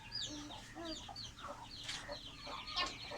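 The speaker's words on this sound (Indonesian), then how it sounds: "jangan ganggu ayam makan Aisyah. Ayam tengah makan." Chickens cluck and peck while eating on Sabang Island, a busy scatter of short clucks and squawks at close range over a low background hum.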